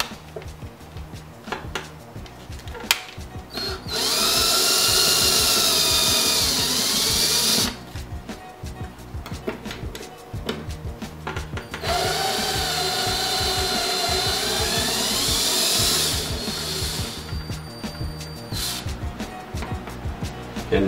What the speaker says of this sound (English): Knife Edge bit removing damaged screws.